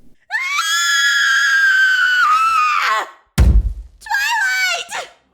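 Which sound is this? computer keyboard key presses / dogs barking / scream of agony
scream of agony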